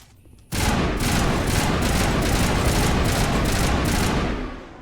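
An assault rifle in Mass Effect opens up close and loud, firing a rapid string of bursts that forms an almost continuous rattle for several seconds before it stops abruptly.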